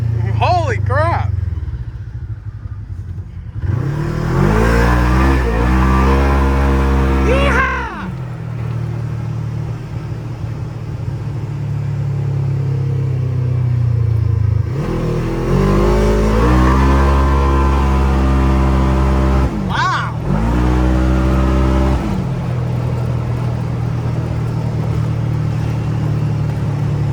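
A Polaris RZR XP1000 side-by-side fitted with an MCB Performance CVTech clutch kit accelerates hard in two loud rising bursts, with engine roar climbing in pitch, then easing, while voices shout and talk excitedly over it.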